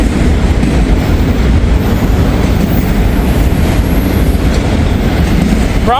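Union Pacific freight train rolls past close by in Ohio, a loud continuous rumble of wheels and cars with steady rhythmic rail noise throughout, a faint squeal at the very end.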